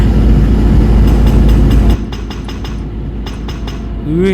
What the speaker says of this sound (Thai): เร่งเครื่องก่อน สังเกตว่ารอบเครื่องจะเปลี่ยนนะครับ